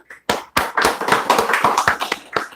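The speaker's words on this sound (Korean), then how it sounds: "박수로 환영하겠습니다" A church congregation claps to welcome a guest: a run of roughly a dozen sharp, close hand claps over about two seconds, uneven and fairly loud, with no talking.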